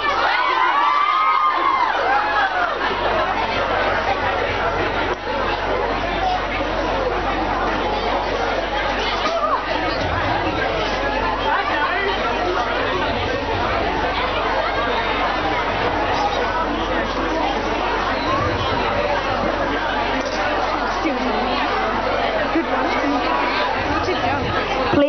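A dense crowd of fans at a celebrity meet-and-greet, loud and continuous, with packed chatter, excited shouts and bursts of cheering and whooping throughout.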